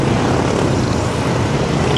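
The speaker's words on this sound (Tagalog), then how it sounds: "Ganda ng takbo ng motor ko ngayon" A motorcycle engine runs steadily while the bike rides along Taktak Road, a loud, continuous road and engine roar with no pauses and no voices.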